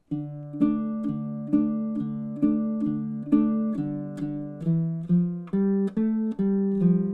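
Fingerstyle minor melody plucked on a baritone ukulele, single clear notes ringing one after another in a steady, even rhythm, played alone with no voices.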